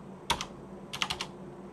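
Computer keyboard keys tapped close by: a quick double click, a pause, then a rapid run of four or five presses such as backspace strokes, crisp and quiet.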